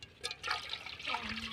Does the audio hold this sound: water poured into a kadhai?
yes